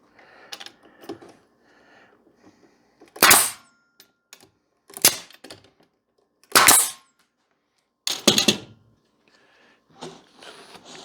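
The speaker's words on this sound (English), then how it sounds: "keep your hands that far from the end of the staple gun" A staple gun driving 1.5 inch staples into wood for a bee escape: four sharp, loud snaps spaced a couple of seconds apart, with quieter handling clicks and rustling between them.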